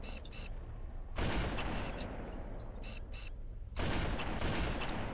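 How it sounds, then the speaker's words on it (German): Gunfire in Halo: Combat Evolved, heavy sustained bursts of automatic fire with booming blasts, loud and continuous over a rumbling battle background. "Ich schieße hier nur die Gegner ab"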